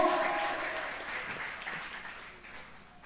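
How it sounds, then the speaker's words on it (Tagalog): A church congregation gives loud, dense applause that starts strong and slowly fades away over a few seconds, with no voices on top. "Mapalakpakan ba natin ng malakas na palakpak ang mahal na Panginoon?"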